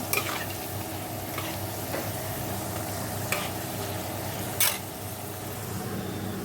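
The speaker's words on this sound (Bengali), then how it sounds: "আলুটা ভেজে নিচ্ছি" Potatoes fry in a pan with a continuous soft sizzle, broken by occasional scraping stirs and a brief louder clatter of a utensil, no one speaking.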